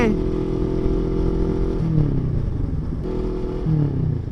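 A CFMoto NK400 motorcycle being ridden, its engine droning steadily up close, with two upshifts where the revs dip and climb again, accompanied by wind and road noise.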